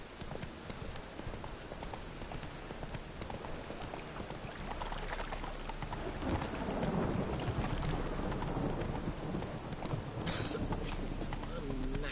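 Steady rain hisses throughout in The Witcher 3, with horse hoofbeats clopping along and a low rumble building midway.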